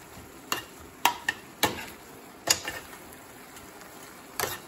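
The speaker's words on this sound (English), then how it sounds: "let's cook a little more. Get the onion cooked a little more." Onion cooks in a pan for homemade chili with 80-20 ground beef, a faint sizzle under a handful of sharp spoon clinks and scrapes against the pan, spaced irregularly.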